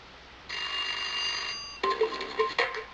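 An iPad's electronic alarm tone chimes steadily for over a second, then breaks into a quicker pulsing pattern of bright beeps, moderately loud and clear.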